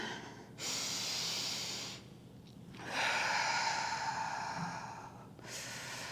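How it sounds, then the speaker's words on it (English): Steady breathing during a standing side-to-side twisting exercise, with elbows bent at right angles and hips facing forward; audible breaths come in long waves, near and fairly soft, with brief quieter gaps between them and no talking. "And we're just twisting, and we're breathing."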